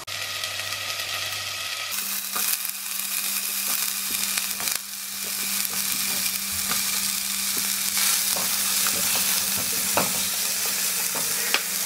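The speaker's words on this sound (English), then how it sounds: "Just added in some onions to my garlic that I just added in." Onions and garlic frying in a pan: a loud, close, continuous sizzle with the scrape of stirring, intensifying as something is added partway through, with no talk.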